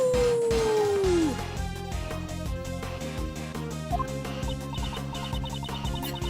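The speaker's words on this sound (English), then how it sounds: "Howl." A howl sound effect from the video game Ace Attorney Investigations 2 gives one loud, drawn-out cry that slides downward in pitch during the first second, then fades as background music continues.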